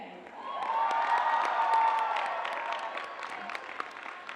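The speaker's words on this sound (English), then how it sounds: "I would like everyone to give a big round of applause to the Office of Student Life" Audience at a Bergen Community College commencement ceremony gives sustained applause with scattered cheers and whoops, the clapping swelling and then tapering, with a faint voice underneath.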